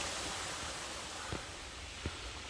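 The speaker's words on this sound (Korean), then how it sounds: "물소리와 새소리가 완전히 장관이다 여기" Steady, broad rushing of a mountain stream in a valley fills the scene, a constant wash of noise with a couple of faint brief knocks.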